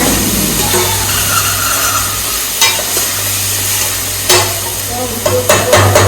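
Poha roasts in a pan over a low gas flame, with a loud, continuous sizzle and periodic sharp scrapes of a spoon stirring against the metal.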